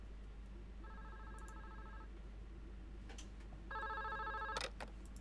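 A telephone rings in the Yakuza 3 video game, with two bursts of electronic trilling bells, the second one louder, over a steady low background hum.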